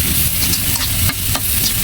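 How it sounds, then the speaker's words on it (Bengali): Spices fry with salt, turmeric and ginger-garlic paste in a pan, a steady loud sizzle with scraping stirs breaking through, close up and with no talking, while prawns and water spinach are being cooked. "কিছুক্ষণ ভাজার পর আমি লবণ দিয়ে দিব, হলুদের গুঁড়া, আদা রসুনের পেস্ট দিয়ে আবার একটু নেড়ে চেড়ে দিব।"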